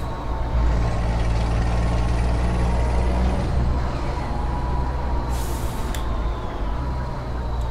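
A heavy truck engine rumbles steadily in the Euro Truck Simulator 2 driving game, with a sharp hiss of the air brake releasing about two thirds of the way through, loud and close throughout.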